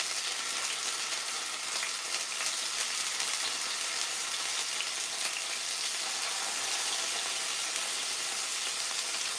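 Pork chunks fry in a pan for masa de puerco frita, giving a dense, continuous hiss and crackle of hot oil at an even, moderate level throughout, with no talking.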